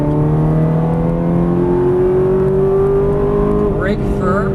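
A Ferrari 430 on a race track at full throttle, its engine note climbing steadily in a loud, close, sustained wail, with a brief whine of tyres or gear change near the end.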